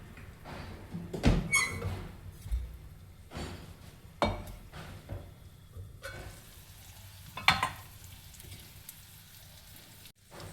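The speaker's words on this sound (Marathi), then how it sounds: "याला 1 मिनिट तेलात मसाल्यात होऊ द्यायचं." Spices for Nagpuri saoji vadi vange fry in hot oil with soft crackling sizzle, broken by several sharp scraping stirs and clanks of a spoon against the pan, close and fairly quiet.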